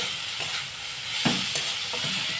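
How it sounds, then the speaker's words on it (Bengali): Shredded boiled chicken kachori filling seasoned with chaat masala sizzles in a pan, a continuous close frying hiss broken by a few scraping stirs of the spatula. "আমি চাট মশলা দিয়ে দিলাম দিয়ে আমি ভালোভাবে এভাবে কষিয়ে নেব"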